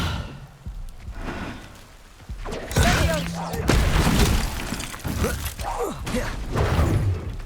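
A Descendo spell cast in Hogwarts Legacy, a heavy slamming impact with crashing debris and a booming thud, followed by further clattering spell effects and combat sounds at close range, with a voice calling out between them.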